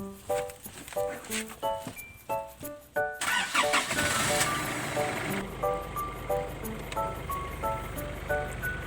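A car engine starts after an air-conditioner repair: a few tonal beeps and clicks come first, then the engine catches and settles into a steady, fairly loud run, with occasional chime-like tones over it.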